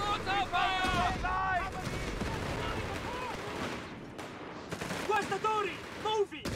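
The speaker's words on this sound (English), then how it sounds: "Incoming mortar fire!" Battlefield combat in Company of Heroes 3's Africa campaign with incoming mortar fire: rumbling blasts and rattling gunfire that swell and fade, with shouted voices over the din.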